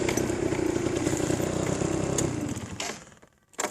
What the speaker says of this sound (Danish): Det var kickstart.